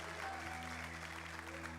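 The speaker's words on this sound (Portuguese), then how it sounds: "Uma salva de palmas aí." Church congregation applauding after a worship song, a steady wash of clapping from a crowd that holds evenly throughout with a low hum beneath.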